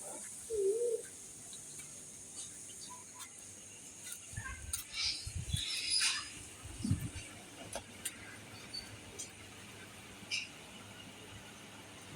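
Ducks calling at night, scattered short cries and squawks clustered mid-way, fairly faint and somewhat distant over a quiet hum.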